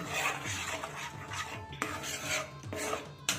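Egg batter with mustard oil and chilli powder being stirred in a bowl, giving a steady scraping, rasping whirl of spoon against the bowl with a few sharper clinks, close and alone.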